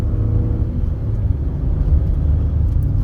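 A 2019 Ford F-150 pulls under firm throttle in third gear, its engine a steady, loud low rumble with road noise heard from inside the cab and no voices.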